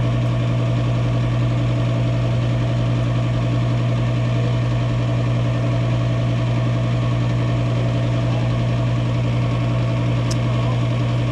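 HVAC unit trying to fire up on a rainy day, giving a constant loud low hum and mechanical drone with steady vibration and no change throughout, close, with no talking.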